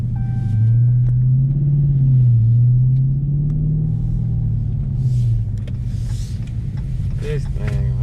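Engine of a 2020 widebody Dodge Charger Scat Pack rumbles loudly and steadily, its pitch rising and falling through a long pull as it accelerates, with a brief lighter sound near the end.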